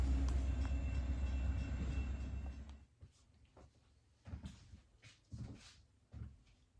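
A model railroad locomotive pulls a southbound stack train past, a fairly loud steady rumble of wheels and motor for about three seconds that then drops away, leaving faint scattered clicks and bumps.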